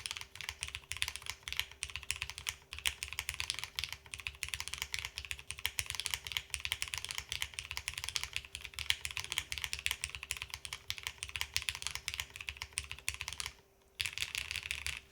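Steady, close, rapid clacking from typing on a custom mechanical keyboard control panel with an FR4 plate and bottom foam, with no spacebar thumps and a brief pause near the end.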